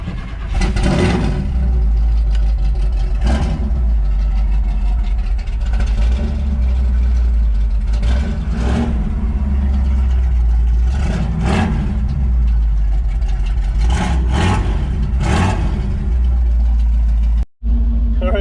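A big block V8 in a short box square body truck runs loud and close, rumbling with repeated throttle blips and revs that swell and fall every couple of seconds, cutting out briefly near the end.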